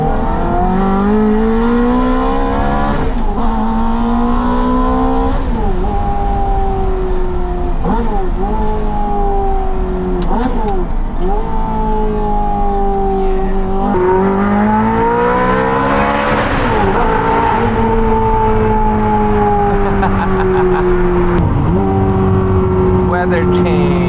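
A Mazda RX-7 drift car with a 26B rotary engine is held at full throttle, its engine wailing loud and close in repeated rising and falling sweeps as it shifts and revs, with tire noise mixed in.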